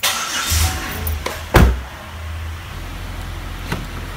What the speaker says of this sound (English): I'm moving my mom's car, though.